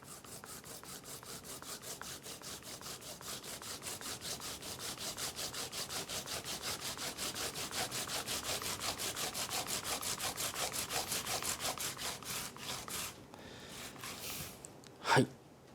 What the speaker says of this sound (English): grind the turnip with the skin